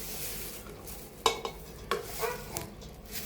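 Chopped onions go into a pan and begin a low sizzle, broken by three or four sharp spoon-on-metal clinks and stirring scrapes, close and fairly quiet.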